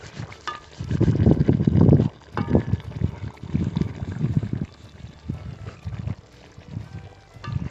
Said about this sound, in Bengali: এবার আমরা আগের থেকে ভেজে রাখা মাছগুলো দিয়ে দিচ্ছি।